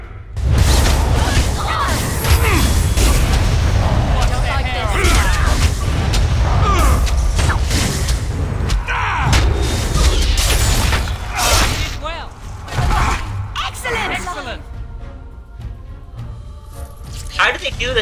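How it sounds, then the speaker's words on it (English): Explosions in the fantasy video game Dragon Age: Origins boom and crack repeatedly amid loud, dense combat noise and whooshes, nearly continuous for most of the stretch, with someone talking over them. "Exploding everywhere."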